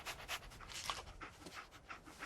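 A dog in a video game sniffs and pants in quick, rhythmic breaths, faint and close, with no one speaking.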